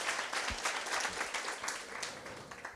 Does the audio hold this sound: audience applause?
yes